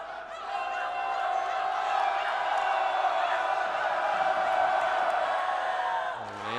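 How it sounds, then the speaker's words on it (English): Home Ramblers crowd at a high school basketball game between Loyola Academy and Notre Dame, roaring loudly and steadily for about six seconds with shouts and whoops, then cutting off abruptly. "This Rambler crowd is fired up."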